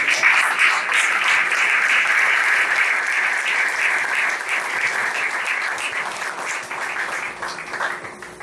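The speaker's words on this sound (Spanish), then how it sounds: "Vamos a dar un aplauso al Señor." A church congregation applauds for about eight seconds, steady dense clapping close by that fades slightly toward the end, with no talk over it.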